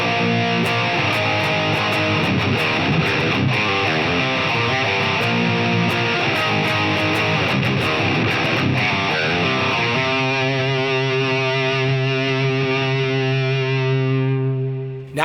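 Recorded electric guitar tracks played back through a Quad Cortex, a dense, distorted, effects-laden wall of chords that sustains continuously and loudly, then rings out into a held chord at the end.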